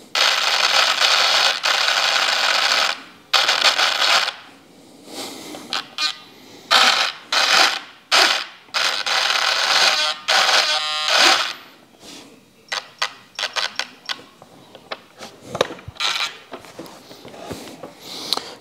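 A Jeti servo on a large Skymaster Hawk RC jet tail section, nudged by sub trim adjustment, makes short, loud, buzzing whirs in irregular bursts separated by brief gaps.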